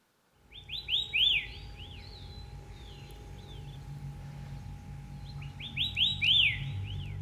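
Steere's liocichla in Taiwan gives two loud bursts of rapid, rising-and-falling whistled notes, close and clear, separated by a pause over a faint steady hum and quiet background.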